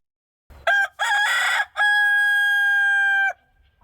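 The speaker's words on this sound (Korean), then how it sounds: "깃털이 아름다운 닭 한 마리가 있었기 때문입니다." A rooster with beautiful plumage, sold at a market stall, gives a loud, close crow in one long call that breaks into a drawn-out final note, with no other sound around it.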